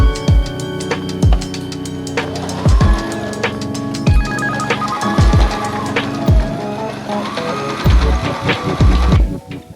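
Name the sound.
sewing machine stitching the sides of an espadrille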